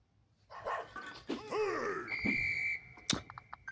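Police dog barking in the Subway Surfers video game, a few sharp barks and yelps mixed with game effects and a bright chime, close and moderately loud.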